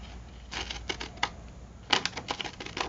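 A stamp edge cutter snips out stamp shapes from magazine pages, giving a series of crisp, close clicking cuts in two bursts separated by a short pause.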